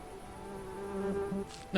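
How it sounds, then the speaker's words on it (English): Bees buzz at night in a video game, a steady droning hum with wavering pitch that swells slightly toward the end, heard alone without speech. "Nighttime bees."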